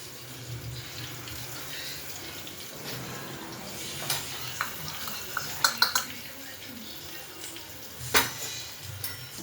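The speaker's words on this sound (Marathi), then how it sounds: "आज बघूया डब्याला मुगाची डाळ बनते आहे थोडीशी सुकीमध्ये" Dry moong dal being stirred and fried in a pan for a tiffin, a steady soft sizzle under a low hum, with a few sharp scrapes and clinks of the spoon against the pan.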